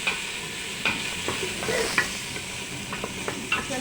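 Onion and ginger fry in hot oil with a steady sizzle, sharp spattering pops and several clinks of a utensil stirring the pan, close and moderately loud.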